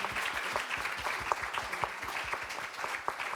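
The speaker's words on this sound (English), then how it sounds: "A round of applause for that." Audience at a medical symposium on palliative care applauding, steady moderate clapping from a seated crowd throughout, fairly soft and without speech.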